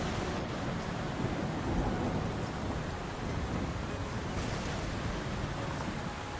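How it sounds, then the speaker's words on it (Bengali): Rain and thunder in a Bengali cartoon form a steady, dense wash of rainfall with low rumbling underneath, continuous and fairly loud throughout. "বৃষ্টি হচ্ছে, চারিদিকে কাদা"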